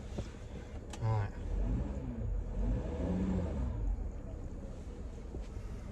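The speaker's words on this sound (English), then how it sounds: "Engine started." A full-time living van's engine runs at a low, steady hum while driving, with a faint whistle and rattle mixed in and a person talking quietly over it.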